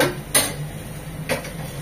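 Fish being mixed by hand with turmeric and salt in a bowl, two short clinking scrapes against the dish over a quiet steady hum.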